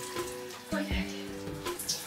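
Shower water runs indoors in a steady hiss with a faint tonal hum and occasional splashes and knocks, close by.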